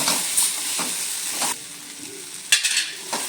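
Okra and potato masala sizzles and hisses in a pan while being stirred, a steady frying crackle with a few louder bursts as the vegetables are turned; no talk.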